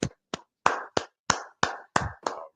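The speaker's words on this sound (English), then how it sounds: "Clap it up, clap it up, clap it up." Hand clapping in a steady rhythm, eight sharp claps spaced about a third of a second apart, close and clear against silence, opening a scripture class.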